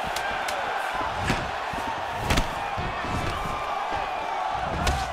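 Crowd noise in the UFC 4 fighting game, a steady arena roar with a few sharp thuds from strikes cutting through, low and continuous throughout.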